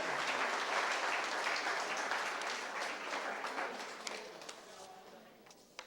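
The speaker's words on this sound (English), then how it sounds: "a huge round of applause for Amanda's Catering and all of the staff back there." Sustained audience applause for the caterer and kitchen staff at a banquet-style awards dinner, dense clapping that gradually thins and fades, with a few isolated claps near the end.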